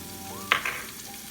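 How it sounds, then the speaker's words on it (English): Onion paste hitting a hot frying pan while a sauce is started, giving a brief sharp hiss and spatter over a low background hum, close and without speech. "To start with, we're going to add onion paste."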